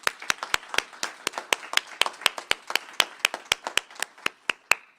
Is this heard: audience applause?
yes